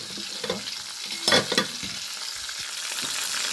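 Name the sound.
fish frying in a pan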